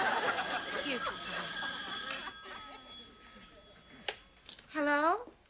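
A telephone bell rings in a sitcom scene, an electronic trill heard twice near the start under and between voices, followed later by a clatter and a voice.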